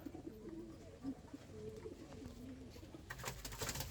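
Pigeons at a seller's loft, including selected show-shape birds, coo softly in repeated low murmurs, with a brief rustling clatter near the end.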